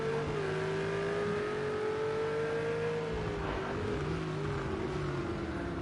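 Race car engine in a GT3 racing video game at the Circuit of the Americas, a steady loud drone with shifting engine pitch and occasional gear-change dips, alone without talk.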